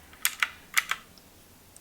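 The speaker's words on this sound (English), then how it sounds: "I want to show you guys my new calculator. It is so cute. I saw somebody using this on Instagram and I fell in love. It's literally like a typewriter." Chunky typewriter-style keys on a novelty calculator clicking as they are pressed, about six crisp, close taps in an uneven rhythm with quiet gaps between them.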